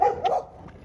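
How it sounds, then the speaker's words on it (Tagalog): A village dog in Lucena City gives a short, sharp angry bark, a brief close yelp with a fainter follow-up. "galit na yung aso."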